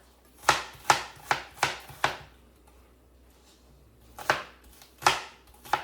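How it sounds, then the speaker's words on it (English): Rough chopping of an onion with a knife on a cutting board: a steady run of five sharp thuds, a pause, then three more, close and clear with nothing else over them. "We're gonna rough chop our onion"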